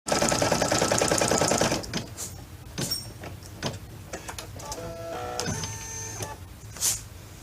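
Sewing machine stitching doll fabric, a dense rapid stitching whir for nearly two seconds, then scattered clicks, knocks and short mechanical whines as the machine is adjusted and reset, close and fairly loud.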